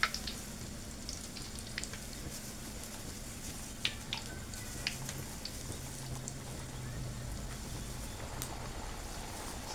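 Martabak goreng deep-frying in hot oil gives a steady, soft sizzle and bubbling with occasional sharp pops and crackles, close by and fairly quiet, with no talking.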